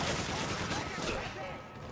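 Rapid gunfire in Resident Evil 5, a dense, continuous volley of shots filling the whole moment at close range, loud and sustained with no talking over it.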